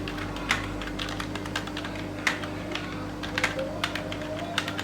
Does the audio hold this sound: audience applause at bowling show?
no